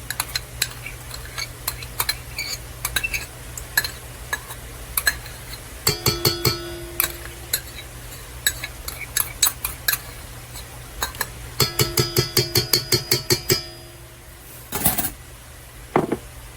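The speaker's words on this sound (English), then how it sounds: "we're going to go ahead and put that in our KitchenAid bowl" Food going into a KitchenAid stand mixer's metal bowl during pancake prep: a series of bright clinks and scraping taps, including quick rhythmic bursts of clattering utensil strikes, close and dry with no talking.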